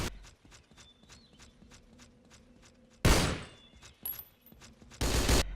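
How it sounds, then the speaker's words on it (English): Footsteps with rattling gear in a video game fall in a steady, evenly spaced rhythm, squelching as if in wet shoes, broken by two loud noisy bursts. "Walking around sounds like you're walking around in wet shoes for what is meant to be the sound of your gear rattling."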